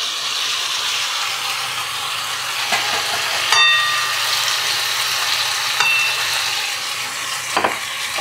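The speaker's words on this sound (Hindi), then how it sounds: "और डाल देंगे हम यहाँ पे पत्ता गोभी।" Cabbage and peas sizzle steadily in a hot pan over a medium flame, with a few scraping stirs and clinks of a spoon breaking through the continuous frying hiss.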